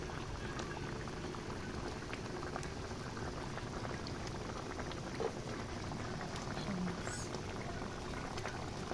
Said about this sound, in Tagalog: Dahil kumukulo na siya, takpan na natin ang okay na yan.